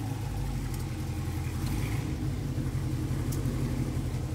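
An S550 Mustang idles or creeps up nearby with a steady, low, rumbling engine drone that holds even throughout, and no one speaks.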